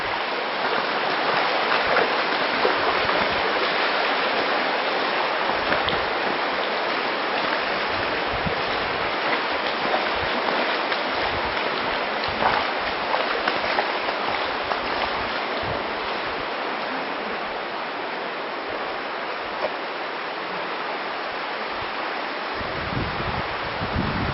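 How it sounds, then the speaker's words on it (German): Steady rushing of a river flowing through Hang En cave in Vietnam, continuous and fairly loud, with no voices. "Dort fließt der Fluss"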